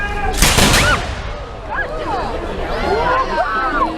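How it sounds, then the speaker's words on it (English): 18th-century muskets fire in a loud, near volley at a changing of the Spanish guard ceremony, a single ragged burst with echoing crackle that fades, while a crowd murmurs and voices talk around it. "You cannot aim these guns. That's what the 18th century sounds like."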